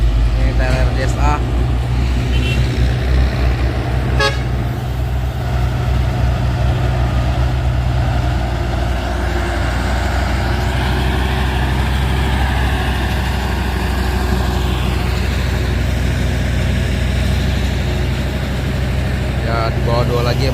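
Trailer trucks in a convoy grind uphill on a steep climb with a deep, steady low engine drone, loud and continuous, with brief clatters at the start and end.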